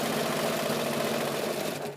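A sewing machine stitches fabric binding, a continuous close mechanical whir and hum running steadily for two seconds with no talk.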